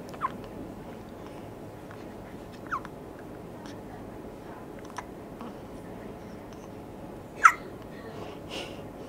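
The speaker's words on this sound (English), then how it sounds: "you, little girl, have the cutest little hiccups ever" A 17-day-old newborn baby girl in a hospital hiccups, several small, soft, isolated hics spaced a few seconds apart over a quiet hiss, one sharper than the rest.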